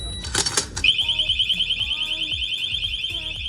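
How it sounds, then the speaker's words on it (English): A few rattling clicks, then a Cranns motorcycle disc lock alarm sounds a shrill, continuous electronic tone up close, ringing steadily with a rhythmic pulsing underneath. "So it sets off a pre-alarm and then it enables a really loud one."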